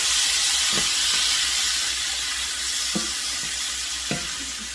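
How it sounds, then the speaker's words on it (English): Medium shrimp sizzling in a frying pan over medium heat, a steady close hiss with a few sharp scraping taps of a spatula, no talking. "Alright, shrimp in the pan."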